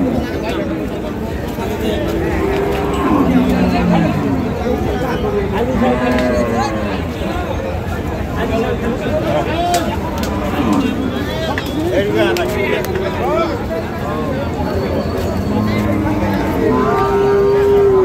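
Cattle low repeatedly at a busy livestock market, their moos rising and falling close by over constant crowd babble and voices of buyers and sellers talking.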